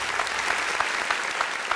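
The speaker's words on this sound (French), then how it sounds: "On applaudit pour Boris" An audience in a studio broadcast gives brisk, continuous applause for a guest, a dense and fairly loud patter of many hands that stays even throughout with no voices on top.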